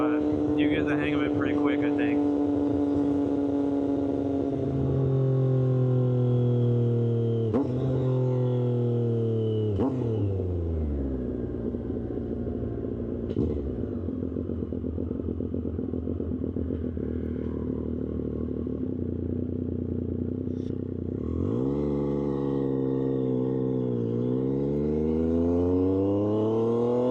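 A Triumph 765RS motorcycle fitted with an aftermarket exhaust and tune is ridden from the rider's seat. The engine rises and falls through several gear changes, and the revs climb and drop steadily under wind noise.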